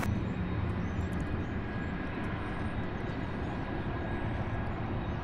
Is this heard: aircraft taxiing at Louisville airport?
yes